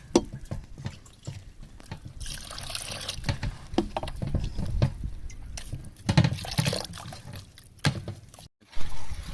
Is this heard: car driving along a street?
no